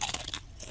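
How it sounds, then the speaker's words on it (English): Loud, close chewing of crunchy chips, a dense run of crisp crunches packed into a brief burst with no pauses. "Why are you chewing so damn loud?"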